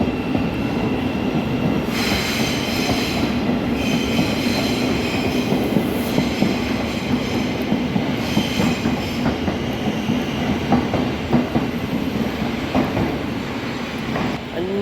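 A British all-stations train to Uxbridge rumbles steadily into a station platform at close range, wheels clattering rhythmically on the rails, with occasional high metallic squeals over the low roar.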